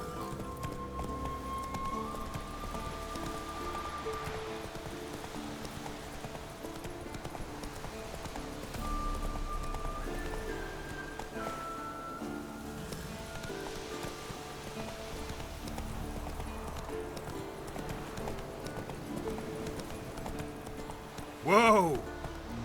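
Horse hooves in The Witcher 3 clop steadily beneath game music and ambient sound, with a short whinny near the end.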